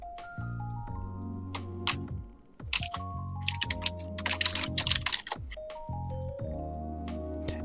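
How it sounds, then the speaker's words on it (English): Rapid keyboard typing clatters in quick bursts of clicks beneath sustained electronic music tones from a game. "you can tell how hard Corey's working by hearing how fast his keyboard goes"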